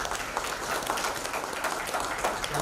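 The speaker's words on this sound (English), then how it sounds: "put your hands together for Professor Feringa" Audience applause welcoming Professor Feringa at an evening event hosted by the Dutch Embassy, a steady, full burst of many people clapping throughout.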